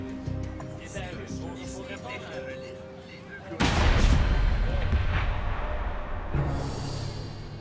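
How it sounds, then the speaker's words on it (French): Deep booming detonations of a military cannon salute roll in from across a river, one sharp blast standing out, while people talk over the rumble. "Des détonations retentissent de l'autre côté de la rivière. C'est un salut militaire"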